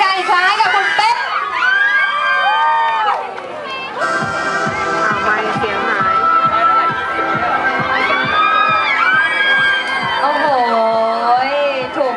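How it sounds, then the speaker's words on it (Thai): At an energy drink pavilion booth at a trade fair, a crowd screams and cheers in loud bursts, with shrill whoops and shrieks overlapping a host's amplified voice and music. "ขอเสียงกรี๊ด"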